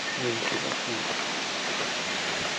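A waterfall in Sumatra rushes as a steady, full broadband roar that fills the whole clip, with brief faint voices near the start.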